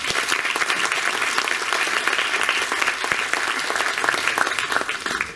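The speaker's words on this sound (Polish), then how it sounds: "Wielkie brawa." Audience at a concert of young violin students and musicians applauding loudly, a dense and continuous burst of many hands clapping that holds steady and then starts to fade at the end.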